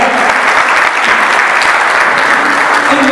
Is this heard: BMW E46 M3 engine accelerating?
no